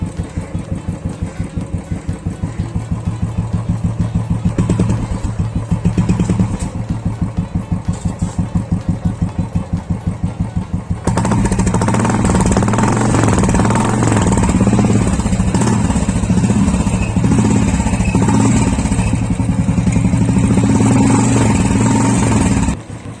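A Royal Enfield motorcycle fitted with an aftermarket silencer cranks and fires into a loud, close, thumping idle, then rises to a fuller, harsher exhaust note about halfway through before cutting off near the end.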